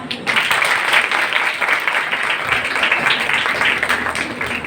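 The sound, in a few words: audience applause at college ceremony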